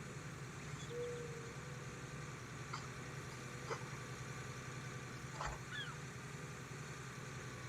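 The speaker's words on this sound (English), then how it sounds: "This tractor won't even do the speed limit" A tractor engine idles in a farming video game, a faint, steady low drone that hums on unchanged, with a few brief chirps and clicks over it.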